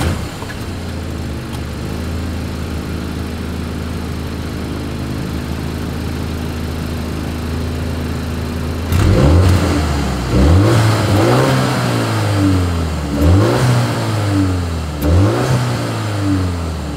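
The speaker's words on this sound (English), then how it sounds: "As always, here is that exhaust clip." A 2025 BMW X1 engine idles steadily, then revs up sharply several times in a row, the exhaust note rising and falling with each throttle blip.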